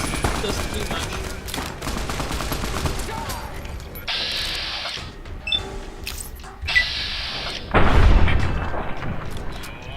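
Rifle fire in Fallout: New Vegas against tough thugs: repeated gunshot bursts and fusillade-like crackle fill the scene, with a heavier blast near the end, under ongoing game noise and some speech.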